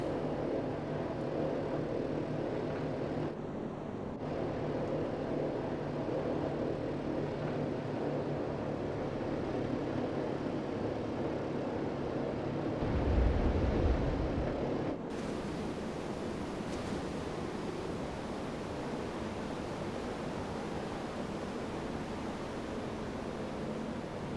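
Grumman HU-16 Albatross amphibian making a water landing in Microsoft Flight Simulator 2024: a quiet, continuous engine and wind hiss with a brief low thump partway through as the hull meets the water.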